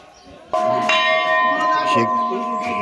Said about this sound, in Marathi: मंदिराची घंटा